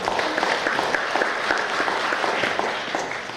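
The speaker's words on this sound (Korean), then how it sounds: "박수 한번 부탁드리겠습니다" Dense applause from residents at a village project briefing, a steady wash of many hands clapping at even loudness throughout, with no speech on top.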